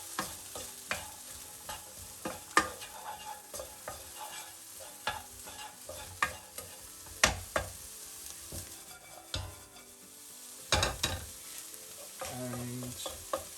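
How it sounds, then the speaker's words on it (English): Garlic and onions sizzle steadily in a frying pan, with repeated sharp scrapes and taps of a utensil stirring them over a continuous crackling hiss. "While the garlic and the onions are frying in my frying pan"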